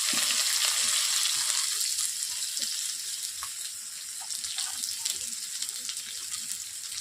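Green chili and chopped onion fry in a pan with a bright, hissing sizzle, loudest at first and then settling to a steady crackle, close by with a voice speaking faintly beneath.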